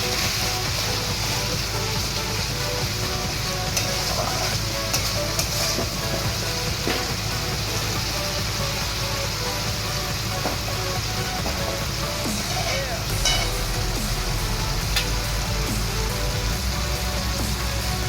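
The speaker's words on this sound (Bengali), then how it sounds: "আর হালকা জল দিয়ে দিয়ে নাড়বেন যাতে কড়াইটাতে না লেগে যায়" Katla fish masala fries in a kadai with a splash of water while being stirred, giving a steady, even sizzle that runs unbroken throughout at moderate level.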